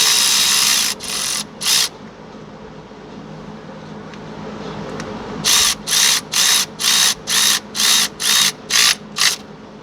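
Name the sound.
tightening a bolt during Chevy Impala engine installation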